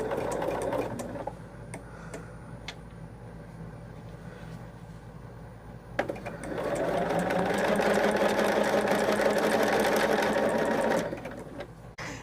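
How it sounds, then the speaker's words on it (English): Sewing machine stitching cotton quilt pieces indoors: a short burst of stitching, a quiet pause, then a long steady run of fast, even whirring and needle clatter close by that stops abruptly. "Gotta make sure I'm sewing the correct side."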